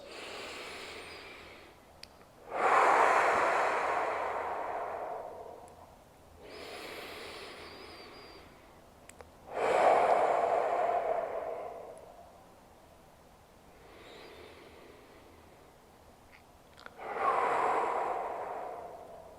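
Three slow, deep breaths are drawn in and let out during a jaw massage, each a long airy inhale and exhale, close and clear with quiet pauses between them.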